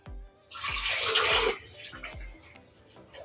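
About 450 ml of vinegar splashes into a saucepan already holding sugar, a close, gushing pour lasting about a second, framed by a few sharp knocks and clinks of the container.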